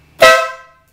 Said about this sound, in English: Horn's way louder. People are gonna hear that one.